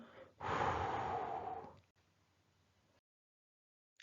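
A single strong breath blown out through the lips during a children's breathing exercise, a loud airy exhale of about a second and a half that trails into quiet room tone, alone without talk.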